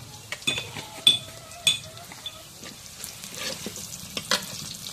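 Cumin seeds fry in hot oil in a pan, a soft, steady sizzle broken by sharp clinks and scrapes of a utensil against the pan.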